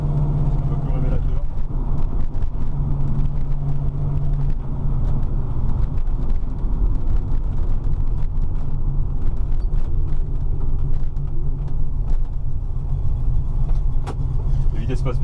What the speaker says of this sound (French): On va aller un petit peu plus loin sur une portion de route où on peut rouler un petit peu plus vite